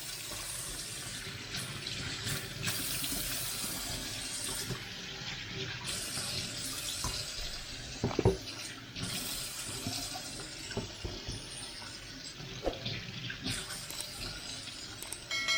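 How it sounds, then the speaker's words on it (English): Tap water runs quietly as cooking ingredients for spaghetti bolognese are washed at a kitchen sink, with soft splashes and a few sharp clinks over a steady low flow. "So we'll just give some of these ingredients a bit of a wash."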